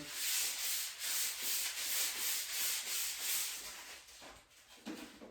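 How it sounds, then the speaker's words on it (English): A snooker cue being sanded by hand, rhythmic back-and-forth rasping strokes about twice a second, close and steady, easing off near the end. "sanding down the cue first has to be done"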